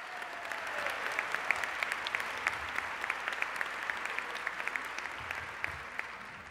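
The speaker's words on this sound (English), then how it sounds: "Let's give a round of applause to all of the participants." Steady applause from an audience at a 2017 luncheon, honoring participants, with many individual hand claps rising above a continuous wash of clapping for several seconds at moderate distance.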